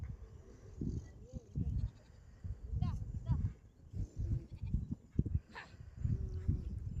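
Sheep and lambs bleat intermittently on a farm while being let out of the pen, the calls moderately close and mixed with people talking and low background noise.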